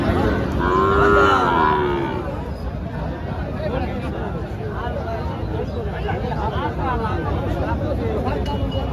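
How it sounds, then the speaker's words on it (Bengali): Sahiwal cattle low at a busy livestock market, one loud drawn-out moo near the start, with steady crowd chatter and voices continuing underneath throughout. "সুন্দর গরু।"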